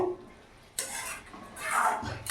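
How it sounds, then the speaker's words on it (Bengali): A spoon scrapes and stirs fenugreek greens with potato in a metal pan, giving two short bursts of close scraping and clinking separated by a brief pause. "ভালো করে নাড়াচাড়া করে মিশিয়ে নিয়েছি"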